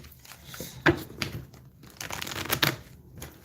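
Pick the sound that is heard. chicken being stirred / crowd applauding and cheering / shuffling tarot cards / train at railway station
shuffling tarot cards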